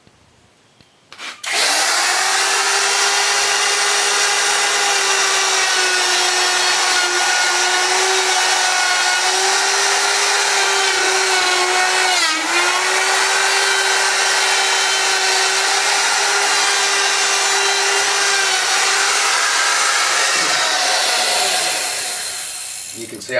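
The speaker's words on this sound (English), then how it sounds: "We're going to use a router to do that." A router whines at a high, steady pitch as it rounds the edges of a wooden table top, running continuously close up for about twenty seconds before spinning down.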